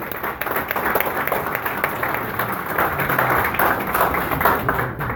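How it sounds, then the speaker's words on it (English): An audience at a boxing press conference gives a round of applause for a former champion, dense clapping of moderate loudness lasting several seconds with a few sharper individual claps. "I want to please give a big round of applause for Israel Vasquez"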